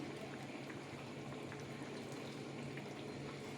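Ridge gourd curry with fried lentil bora simmering in a pot, a soft continuous bubbling and gurgle, fairly faint and steady from start to finish, with no talking.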